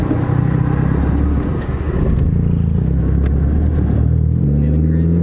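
A Ford Focus ST with a stratified tune runs with a steady, loud engine drone that shifts in pitch as it revs, with a sharp backfire pop partway through and faint voices underneath.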